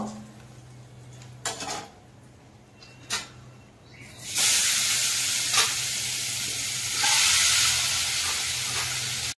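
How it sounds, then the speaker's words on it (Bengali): Fish sizzles in hot oil in a pan. A few clattering pan and utensil knocks come first, then loud sustained frying hiss continues alone. "পরের মাছগুলো আমি ভেজে নেব"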